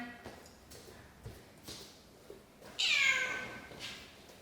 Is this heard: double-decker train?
no